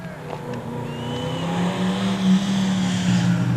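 Race cars, a Mustang and a Honda Civic, roar past the start-finish line at Delaware Speedway, engines droning loud and steady with rising pitch as they pass close by.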